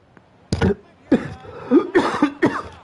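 A man coughs repeatedly into a microphone, four or five harsh, close bursts in quick succession with brief gaps between them.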